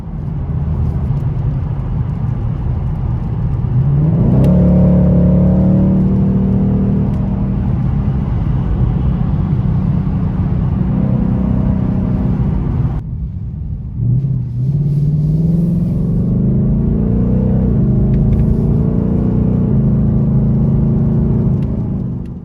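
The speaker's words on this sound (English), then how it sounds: "the Mustang does seem to have a bit too much noise for my taste in terms of tire, engine, and wind noise combined" Cabin noise in a 2020 Ford Mustang GT Premium on the road, a loud, steady low engine drone mixed with tire roar and wind rush, with the engine note rising as the car accelerates and shifts gears.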